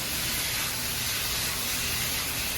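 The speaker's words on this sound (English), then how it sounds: "Our beef will continue to cook with our peppers" Beef frying together with peppers and onions in a pan for Philly cheesesteak, a steady close, loud sizzling hiss that runs without a break.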